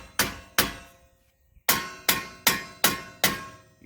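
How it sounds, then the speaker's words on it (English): Seven heavy metallic hammer blows ring out on a rusted wheel hub of a 2002-2006 Nissan Altima, two close together, a pause, then five in a steady rhythm, each clanging and fading quickly. "give it a few whacks with a hammer"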